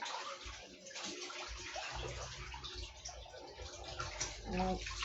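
Water pours steadily into a tub, a continuous splashing rush with gurgling, close by and fairly quiet.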